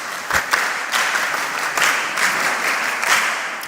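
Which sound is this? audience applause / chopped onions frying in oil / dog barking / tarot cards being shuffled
audience applause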